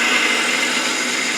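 A spinning wooden blank for a spin top ornament is cut away with a gouge on a woodturning lathe, giving a steady, loud, close-up hiss and rush of cutting with no pauses.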